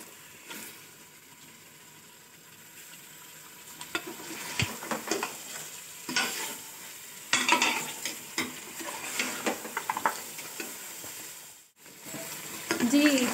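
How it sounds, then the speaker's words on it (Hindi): Beef trotters (paya) frying in a spice masala in a pot, with a steady sizzle and spoon scrapes and stirs that come in irregular bursts, close and moderately loud, then a brief pause near the end. "पाए डाल के हमने उनको भी हल्का सा मसाले के साथ भून लिया है।"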